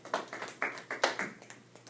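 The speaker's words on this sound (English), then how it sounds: "Let's give a round of applause for these guys" A handful of scattered claps from a classroom audience for students after a projectile-motion physics demonstration, quiet and uneven rather than a dense ovation.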